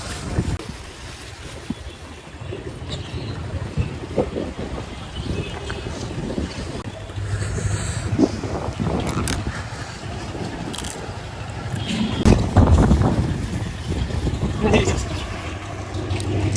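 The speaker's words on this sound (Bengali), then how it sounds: "বাতাস।" Wind blows across a riverbank at Diabari ghat, producing a steady broadband rush with gusty buffeting against the microphone, plus faint water and boat sounds in the background.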